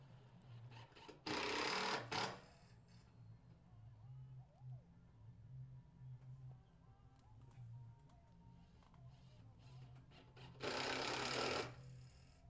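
Screws are driven into a reclaimed-wood raised bed planter, with two loud, harsh bursts from a power drill near the start and near the end and quiet handling noises between them.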